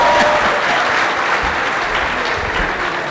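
At an international conference on AI and robotics, a keynote audience breaks into loud, dense applause that holds steady and fills the room throughout.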